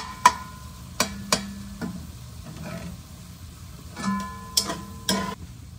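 Stirring food in a pan while making zucchini lasagna, with a handful of sharp scraping and clinking strokes spaced irregularly over a soft sizzle, close and fairly quiet.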